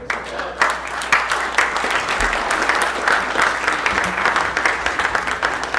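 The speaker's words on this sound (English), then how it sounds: "give me another round of applause for Vince Palamara." An audience claps and applauds continuously, a dense crackle of many hands at steady volume from start to finish.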